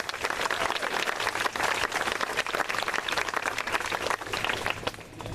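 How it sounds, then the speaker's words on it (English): A round of applause from a tour group inside a historic house, steady mid-distance clapping from a modest crowd that thins out toward the end. "Let's give him a round of applause."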